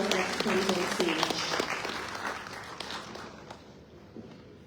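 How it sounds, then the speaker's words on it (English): An assembly audience at the ARMFA African road leaders' gathering claps as the association's president walks on stage. The applause starts fairly strong and gradually thins and fades toward the end. "A round of applause as he comes on stage."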